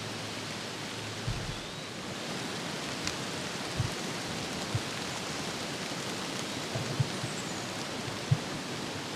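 Steady rain hisses evenly throughout, with a few scattered drops tapping close by.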